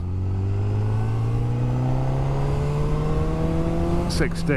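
A 2022 Honda CB1000R Black Edition motorcycle accelerates in fourth gear, its engine note rising steadily and loudly under wind rush, with a rider speaking briefly near the end.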